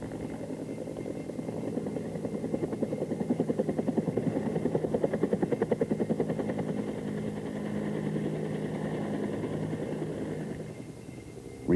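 A Bell AH-1 Cobra helicopter flies and climbs, its rotor thumping in a fast, steady rhythm over a broad engine hum, moderately distant and alone without talk.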